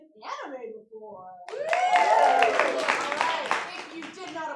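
An audience at an anime-themed improv comedy show claps in a sustained burst of applause, following a short stretch of speech and lasting to the end.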